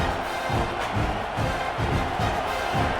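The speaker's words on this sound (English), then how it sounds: "this crowd is turning it up a notch" A stadium crowd in College Football 26 roars continuously throughout, a dense, loud wall of cheering and shouting with rhythmic swells and no voices standing out.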